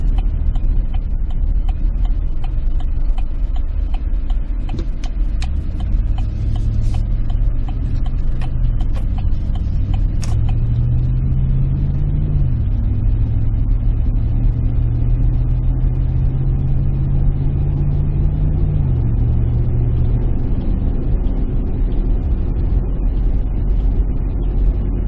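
Low, steady exhaust rumble from a Chevrolet Silverado V8 pickup running in four-cylinder mode at cruising speed, droning continuously with slight shifts in pitch, no talking.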